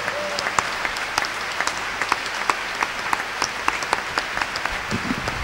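A church congregation claps together in a loud, rhythmic, steady beat of hand claps, close and sustained, with a faint voice underneath.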